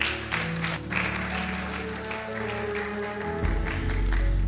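A church congregation claps for the Lord in a sustained round of applause, dense and fairly close, with music playing underneath throughout.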